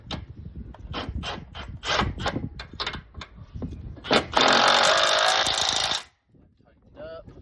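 An impact wrench with a 13/16 socket works on the struts of a 2010 Ford F150, a series of short bursts followed by a loud, sustained rattling hammer that stops abruptly, with brief talk near the start and end.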